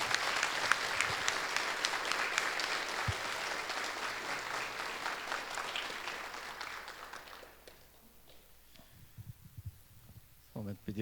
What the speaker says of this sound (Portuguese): Vamos acolher essas crianças então no nosso projeto de catequese com uma forte salva de palmas.